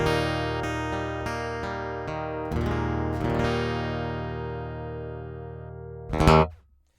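A Martin OMC-28E acoustic guitar plays through a Sonicake A Factory acoustic preamp, a series of strummed and picked chords that ring out and sustain, ending with a short muted strum and silence, heard clearly without talking.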